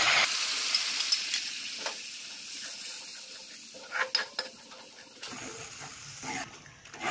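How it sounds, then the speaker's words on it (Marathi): Spice paste masala sautéing in a pan, with a bright hiss and sizzle and a few clinks and scrapes of a spoon stirring, fairly loud and close. "इथे 1-2 मिनिटं आपला मसाला छान असा परतून घ्यायचा आहे आपल्याला"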